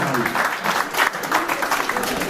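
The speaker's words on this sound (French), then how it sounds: "Donc franchement, il mérite votre applaudissement." A crowd at a community gathering launching a Rewmi party section in Paris's 93 applauds a community member, dense clapping rising and falling in waves with some voices mixed underneath.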